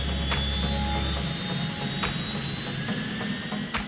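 Helicopter shuttling supplies between the Marion Dufresne ship and isolated Antarctic and sub-Antarctic resupply sites, a steady loud turbine whine with rotor noise throughout, no talking.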